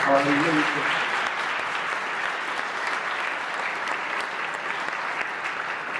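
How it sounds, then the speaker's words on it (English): An audience at a charter school honor induction ceremony gives a round of applause for the school orchestra, steady and moderately loud, with a brief voice at the very start before the clapping carries on alone. "Please join me in a round of applause for our orchestra."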